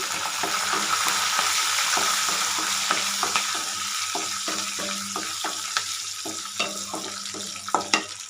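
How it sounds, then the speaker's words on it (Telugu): A dried red chili, curry leaves and cumin seeds sizzle in hot oil for a Telugu tamarind pickle. A steady frying hiss runs under repeated light spoon stirs and taps, close and with no voices. "ఇప్పుడు మనం ఒక ఎండుమిర్చి కొంచెం కరివేపాకు వేసేద్దాము జీలకర్ర వేద్దామండి"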